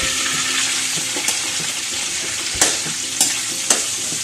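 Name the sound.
shrimp frying in oil used for tofu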